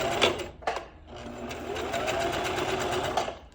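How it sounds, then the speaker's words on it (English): A sewing machine running a straight back stitch, a close, steady rapid whirring with short pauses and restarts as the direction reverses, quiet and alone. "you're just going to lower your presser feet, and you're just going to sew"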